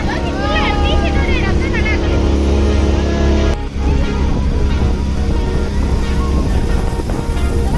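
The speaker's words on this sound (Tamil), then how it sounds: "ஊட்டி போட்ல இருக்கோம்." A motorboat on Ooty lake in the hills runs with a steady engine drone, mixed with wind buffeting and water noise, while voices speak over it; a brief dip interrupts the drone partway through.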